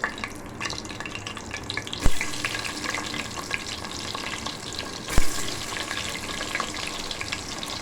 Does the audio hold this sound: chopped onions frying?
yes